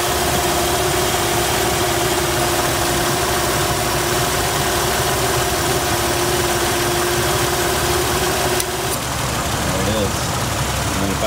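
A Jeep Wrangler engine idles loudly and steadily while its on-board air compressor runs to pressurize an air line, a constant droning hum with a high tonal whine that drops out near the end.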